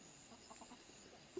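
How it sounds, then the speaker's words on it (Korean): Native Korean chickens near a flower garden cluck softly a few times at a distance over a faint, steady background hiss, with one sharper squawk at the end. "닭이 너무 이뻐요."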